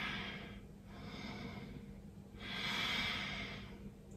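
Slow, audible breaths from a yoga instructor holding locust pose, two long airy exhales swelling and fading in a steady rhythm, close and fairly quiet over a faint low hum.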